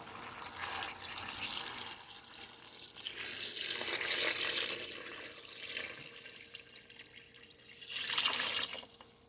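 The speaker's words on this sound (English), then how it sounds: "So now I'm just going to add water to fill up this pot." Tap water runs steadily into a large stock pot for making chicken stock, a continuous close rushing splash that swells and dips slightly as the pot fills, with no voices.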